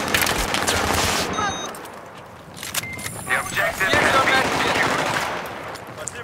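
Automatic and single gunfire from Battlefield 3 multiplayer on the Epicenter map, rapid bursts at close to middle distance with sharp cracks and rattles, mixed with people talking over the shooting.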